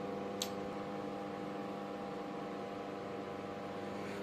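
A microwave oven that runs and turns without heating gives a steady electrical hum with a faint rattle, holding level for the whole stretch, with one brief click near the start.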